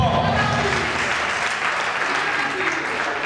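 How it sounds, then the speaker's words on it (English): Steady, dense applause from an audience at a 30th anniversary class reunion, a continuous wash of many hands clapping at full volume with no pauses. "A round of applause."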